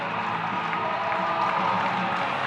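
A steady wash of crowd noise fills an indoor track arena during a 5k race, continuous cheering and murmur with no distinct claps, loud and sustained throughout.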